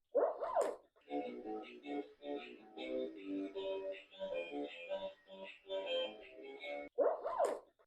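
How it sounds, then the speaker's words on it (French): A small interactive toy dog gives a string of electronic barks and yaps in a quiet indoor room, close and clear, framed by two brief sharper sounds at the start and end. "On va faire fonctionner ce petit chien interactif sans nous-mêmes bouger"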